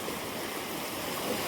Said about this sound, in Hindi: ये जो हम जाने वाले हैं स्लाइड, छोटी सी कुदरती स्लाइड, उसमें से ये पानी कितना आ रहा है भाई देखो।